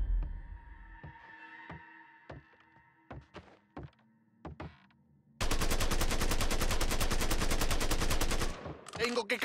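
Gunfire in the video game Mafia 3: a series of sharp single shots spaced out, then a loud sustained burst of rapid automatic fire lasting several seconds before it cuts off.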